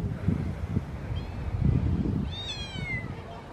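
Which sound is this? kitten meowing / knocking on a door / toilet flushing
kitten meowing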